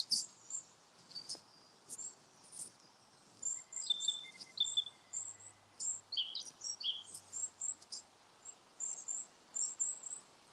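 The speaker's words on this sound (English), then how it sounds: "Got a family group of birds again up here." High, thin bird calls chirp repeatedly in short bursts over a quiet pine woodland background, a family group of several birds calling back and forth at moderate distance.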